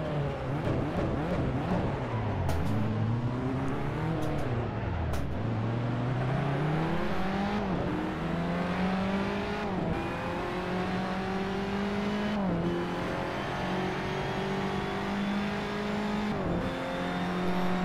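A race car in the Assetto Corsa game revs hard through repeated gear changes, the engine note climbing and dropping in steady sweeps, loud and continuous with no talk.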